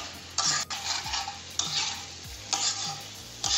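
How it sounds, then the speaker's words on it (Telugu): Chicken fries in a pan as it is stirred in repeated strokes, each pass bringing a bright scraping sizzle that swells and fades about once a second. "ఇది ఫుల్ ఫ్రై అయ్యే వరకు వేపాలండి."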